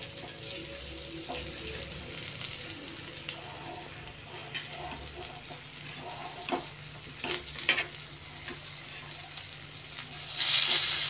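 Steady sizzle of kingfish (surmai) pieces frying in a pan, with scattered scraping and clinks of a spatula turning them, growing a bit louder near the end.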